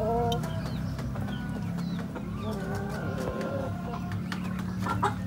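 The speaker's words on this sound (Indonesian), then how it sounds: "Ini ada ayam kelabu." Grey chickens clucking in a coop, several birds calling and chattering close by over a steady low background hum, with no talking.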